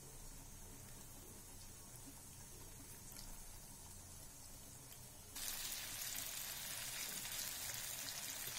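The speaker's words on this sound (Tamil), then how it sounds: "எண்ணெய் ஊற்றி மீன் ஒன்று ஒன்றா பேனில் போட்டு" Fish frying in oil in a pan, a faint steady crackle that turns into a louder, brighter sizzle partway through and holds for the remaining few seconds.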